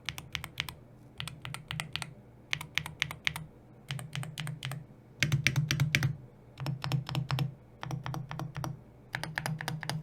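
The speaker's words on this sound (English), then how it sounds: "I'll give you a quick sound test here of the board with the stock Gateron X Pulsar switches" Typing on a Pulsar PCMK 2 HE keyboard fitted with stock Gateron X Pulsar switches: close, steady bursts of crisp key clicks in quick runs, separated by brief pauses, over a soft low thock from each press.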